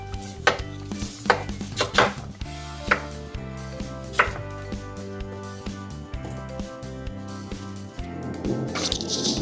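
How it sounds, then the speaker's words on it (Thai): A knife chops sweet potato into triangular chunks on a cutting board in irregular knocks, close by, with soft music playing underneath. "หั่นก็สับไปสับมาเป็นรูปสามเหลี่ยมนะคะ"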